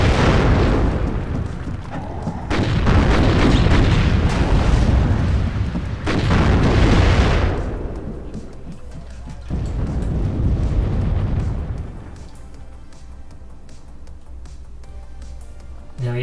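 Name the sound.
tank gun shot and explosions in video game WARNO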